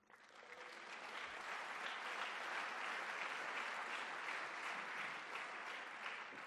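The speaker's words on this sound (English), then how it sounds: "you can give a round of applause for this" Audience applause at an investment manager conference honoring an elected official, a steady dense wash of clapping that swells in quickly and holds evenly loud throughout.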